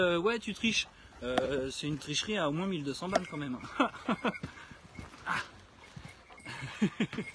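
On a hike through scrubland, a dog whimpers and yips in repeated high, wavering cries with short barks mixed in, close by, while people talk over it.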